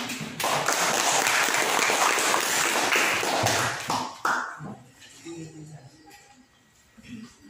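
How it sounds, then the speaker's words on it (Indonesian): Classroom applause bursts out loudly from a student group and lasts about four seconds, then fades, followed by quiet room noise and a few soft taps as a voice begins speaking. "Oke, berikan aplaus dulu."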